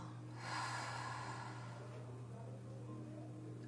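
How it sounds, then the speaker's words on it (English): A single long exhale through the mouth during yoga breathing, a soft close breathy rush that swells and fades over a steady low hum. "Exhale through the mouth"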